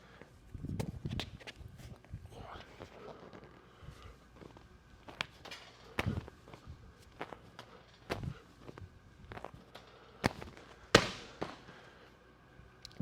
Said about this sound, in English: we're gonna do wall balls